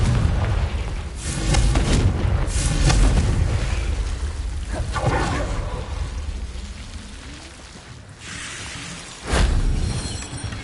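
The Confringo fire spell bursts in Hogwarts Legacy, set off as a string of loud, close blasts, each a sudden boom with a crackling tail, over a rushing, rain-like background and no voices.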